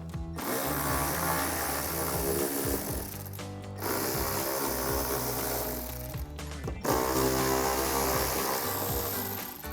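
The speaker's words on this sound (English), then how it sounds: "So we'll grab our 10mm socket to take these out." A 10mm socket on a ratchet backs out bolts inside a car's wheel well, giving continuous close mechanical clicking and whirring in three long runs separated by brief pauses.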